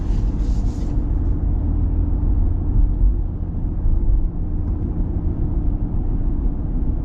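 Steady low rumble of a 2025 Ram Rebel X pickup truck's engine and road noise heard from inside the cab while cruising, constant and fairly loud with no talking.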